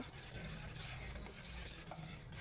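Paneer being mixed by hand with spice paste and mustard oil in a bowl, faint soft squelching and scraping strokes in an irregular rhythm, close but quiet, no talking.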